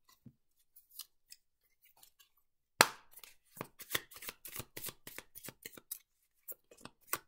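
Tarot cards are handled and shuffled at close range, with a few faint ticks followed by a sharp snap and a quick run of crisp, papery riffling clicks.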